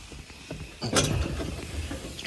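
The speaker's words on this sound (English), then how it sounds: "Pull this engine air filter out." A one-handed tug pulls the engine air filter out of a combine harvester during a wheat harvest, with soft scraping and rattling and then a louder plastic clunk and rustle up close.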